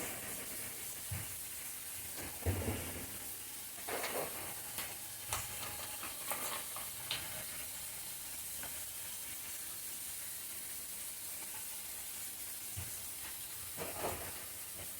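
Mustard oil sizzles in a pan with a continuous soft hiss and irregular crackles and pops, steady and moderately close, with no voices.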